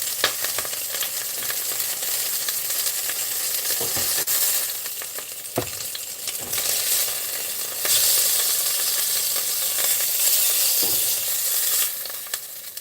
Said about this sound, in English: I'm getting grease splashback everywhere